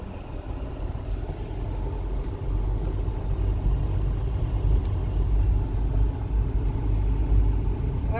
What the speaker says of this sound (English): press my accelerator up till 1500 rpm, and then slowly release my clutch.